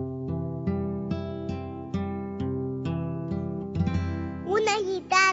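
Guitar playing a melody of plucked notes with regular attacks, steady and close; near the end a voice briefly speaks over it.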